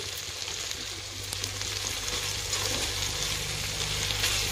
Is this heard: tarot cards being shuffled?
no